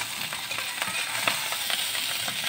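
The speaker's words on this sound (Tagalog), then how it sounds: "Tapos, halu-haluin mo mga idol." Spatula scrapes and clatters in a pan of salt-fried rice, with a steady sizzle under repeated stirring strokes.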